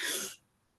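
A single sharp sneeze, loud and close, bursts out and quickly fades into near silence, followed by a tiny brief noise at the end.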